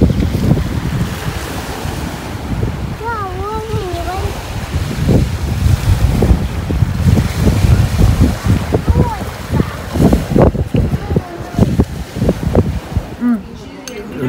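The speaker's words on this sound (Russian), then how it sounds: "Это Мраморное море." Sea of Marmara surf on a June morning near Istanbul, a steady broadband wash of waves with heavy wind buffeting the microphone and brief background voices.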